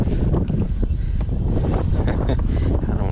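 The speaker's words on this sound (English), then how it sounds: "this wind is, it's starting to pick up." Strong wind buffeting the microphone at Wilgreen Lake in Richmond, Kentucky, a loud continuous rumbling roar with gusty surges, briefly mixed with faint speech.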